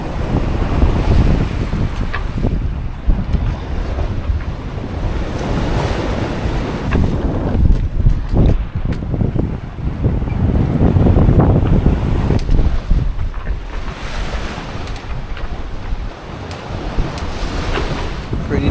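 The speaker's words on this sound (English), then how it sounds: "Pretty nice trade wind sailing." Ocean waves wash and strong trade winds buffet a 33ft sailboat crossing the Pacific, a loud continuous rush of wind noise and surging water with no talking.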